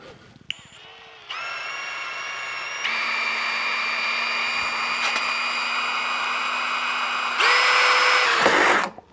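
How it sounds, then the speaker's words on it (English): A power drill whines up in steps as it bores a hole into the metal of a DeWalt 735X planer, a loud sustained high-pitched motor tone that shifts pitch a few times before spinning down. "So just take your drill, and now we're just going to get in here and put a hole in the center there."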